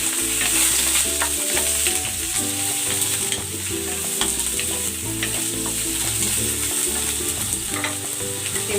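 Potatoes frying in a pan with onions for a fish dish, a constant close sizzle with stirring scrapes over a tonal melodic hum in the background.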